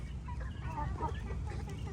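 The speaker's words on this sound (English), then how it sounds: "I figured out I have 4 roosters in here" Four roosters in a backyard garden give soft, low clucks and murmurs, close and continuous without any crowing.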